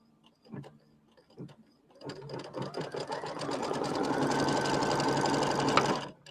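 An embroidery sewing machine stitches a quilt block. A few isolated taps and clicks come first, then the motor starts up into a steady, loud mechanical whirr of rapid stitching that holds to the end.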